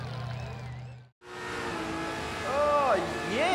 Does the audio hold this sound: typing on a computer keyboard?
no